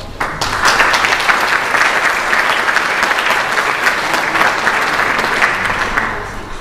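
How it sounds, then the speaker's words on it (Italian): Loud, warm applause from a conference audience, a dense continuous roar of clapping that holds steady and fades slightly at the end. "vi propongo un cordiale ed affettuoso applauso."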